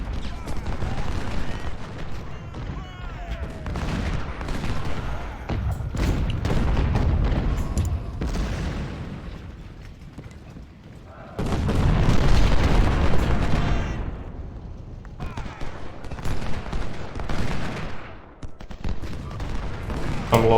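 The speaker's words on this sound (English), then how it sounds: "So a bit of artillery." Volleys of Civil War cannon and musket fire in the strategy game Ultimate General: Civil War, a loud, continuous battle roar of booms and crackling shots that swells and fades in waves.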